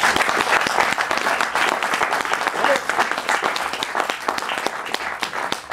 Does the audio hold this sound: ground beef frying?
no